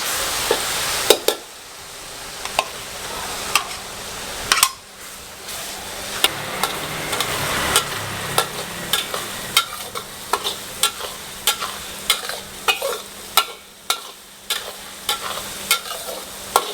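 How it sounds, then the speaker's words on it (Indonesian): Garlic fries in hot oil for making garlic oil, a steady loud sizzle broken by repeated sharp scrapes and taps of a utensil stirring against the pan in a fairly regular rhythm. "Untuk minyak bawang ini sendiri bakal kita masak terus sambil kita aduk."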